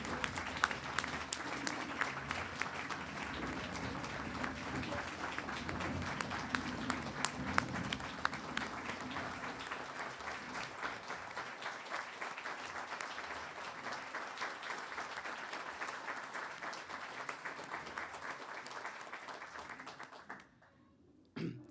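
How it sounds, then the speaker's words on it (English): Long, even applause for hospital staff at an internal medicine resident graduation, a continuous crowd of clapping heard from some distance that cuts off abruptly near the end. "Let's give our staff a round of applause."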